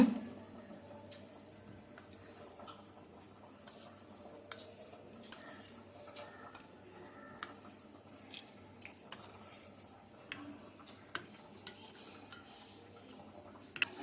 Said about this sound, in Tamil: நல்ல லம்ஸ் இல்லாமல் கரைச்சிக்கோங்க